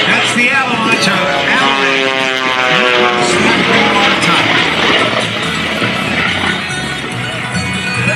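RAD Aerosports Jet Waco biplane flying aerobatic snap rolls at the 2022 Blue Angels Homecoming Air Show: a loud, continuous engine roar with rising and falling pitch sweeps, and an announcer's voice partly heard over it.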